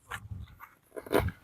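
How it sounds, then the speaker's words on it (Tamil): A village guard dog makes two short bursts of close vocal noise, brief whimpering or huffing sounds separated by a moment of quiet. "இந்த நாய் தான் ஒரு எல்லை காவலா இருக்கு"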